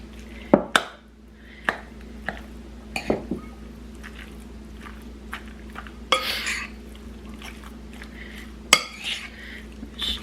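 Spoon stirring skim-milk ricotta cheese and browned ground beef in a bowl, scattered clinks and scrapes of utensil on dish with soft wet squishing in between, close and fairly quiet.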